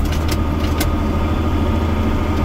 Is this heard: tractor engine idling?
yes